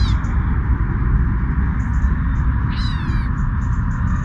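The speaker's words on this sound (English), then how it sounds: "It's basically clips from stray cats." Stray cats meowing, with a few short high mews scattered through and one louder drawn-out meow near the middle, over steady low background rumble.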